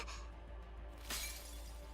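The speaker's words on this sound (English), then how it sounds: "Shatter. A hole forms in the transparent barrier." A transparent barrier shatters in the video game NIKKE: one sharp, bright crash bursts out midway, fairly loud over a steady low background hum.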